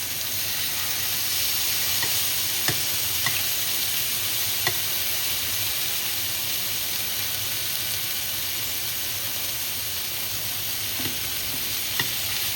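Eight lamb chops sear in a crowded pan with a loud, continuous, even sizzle, broken now and then by sharp pops and spatters.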